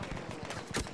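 Gunfire in the video game Battlefield 1, a rapid burst of shots crackling in quick succession, close and loud, with a heavier report near the end.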